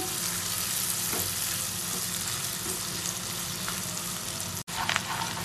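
Chopped onions frying in a pan for a tomato meat curry, a loud continuous sizzle and crackle with occasional stirring scrapes, close up and without talking.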